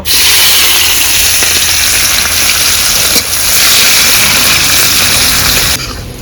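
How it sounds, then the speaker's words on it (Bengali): Onions frying in a pan give a loud, dense, steady sizzle that runs unbroken for several seconds before easing slightly at the end, with no voices. "পেঁয়াজটা ভেজে নেব"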